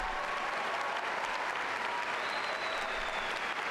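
A large audience at a university commencement ceremony applauds mothers in the room, producing steady, dense clapping that fills the hall evenly and continuously throughout, with no break.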